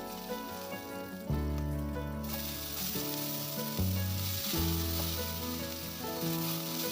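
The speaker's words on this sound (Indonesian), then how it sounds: "aku tumis di atas sedikit minyak karena bumbu dasarnya sudah ada minyaknya ya" Garlic base paste and onion sauté in a little oil, giving a continuous crackling sizzle with occasional stirring scrapes, close and steady while music plays underneath and no one speaks.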